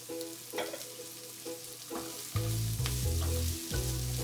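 Roughly chopped red and green peppers sizzle and fry in a pan for pork in yellow bean sauce, with scraping stirs and a louder burst of hissing partway through, close and with no talk.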